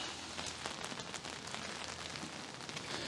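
Steady rain patters and hisses on a surface at Mossyrock Dam in Washington, a dense even wash of drops with no voices.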